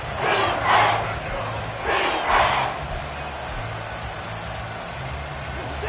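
Stadium crowd noise from a Madden NFL playoff game swells in two loud bursts of cheering over a steady roar of fans, building toward a big third down.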